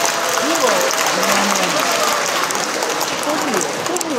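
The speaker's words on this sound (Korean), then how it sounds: "여러분 다시 한번 큰 박수로 맞아주십시오." An audience at an anniversary performance of a Korean arts troupe applauds to welcome the troupe leader, sustained loud clapping with a speaker's voice heard over it.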